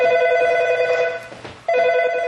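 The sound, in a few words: telephone ringing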